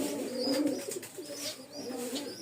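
Soft, low cooing and muffled murmuring of pigeons up close, with faint high squeaks and rustling, all quiet and intimate.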